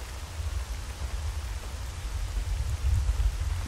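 Rain falls during a session of the video game Stalker Gamma in the Red Forest, a steady, dense hiss of rainfall with a rumbling low undertone that swells slightly toward the end.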